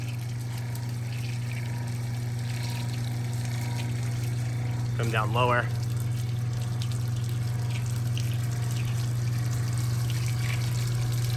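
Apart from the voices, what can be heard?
water running over a coated panel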